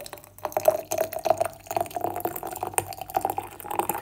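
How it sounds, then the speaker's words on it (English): Water poured into a cup over Twinings tea and hawthorn berries, a trickling, splashing stream with small irregular drips running throughout, fairly close, no talking. "And so I'll just pop some more water in here."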